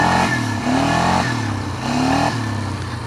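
A Harley-Davidson motorcycle passes nearby with a loud, low rumbling engine that rises and dips as the rider works the throttle, heard alone.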